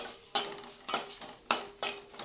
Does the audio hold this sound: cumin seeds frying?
yes